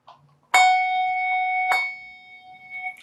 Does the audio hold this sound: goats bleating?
no